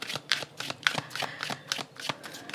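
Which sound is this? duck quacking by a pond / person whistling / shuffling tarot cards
shuffling tarot cards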